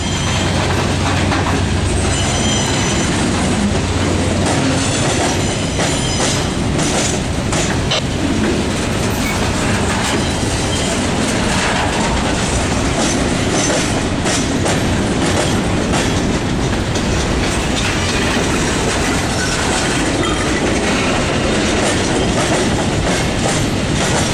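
A long CSX freight train rumbles past close by on the Monroe Subdivision near Hamlet, loud and continuous, with rhythmic clattering of wheels over rail joints and occasional metallic squeals.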